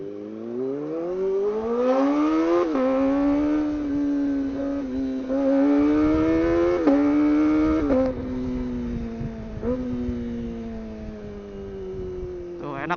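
A Kawasaki ZX25R sport motorcycle's inline engine revs and holds a high, rising whine for the whole stretch, with pitch swells and small dips as the rider shifts, loud and close.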